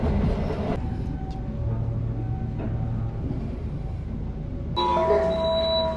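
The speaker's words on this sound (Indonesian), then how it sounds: "kereta api Gajayana telah tiba di stasiun Solo Balapan" The Gajayana train pulls into Solo Balapan station with a low rolling rumble of the carriages, a station chime ringing out near the end, and a few faint clanks in between.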